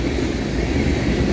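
A fast CSX mixed freight train led by an ex-LMS Dash 8 locomotive rolls past, with cars rumbling in a loud, continuous, close roar of wheels on rails and no talking.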